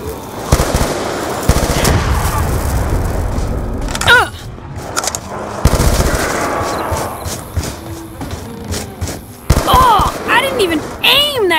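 Automatic rifle fire in a solo zombies shooter game, rattling in rapid bursts with heavy thuds between them. Vocal sounds rise over the shooting now and then.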